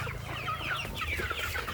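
Several chickens cluck and chatter continuously nearby, their overlapping calls filling the scene with no talking.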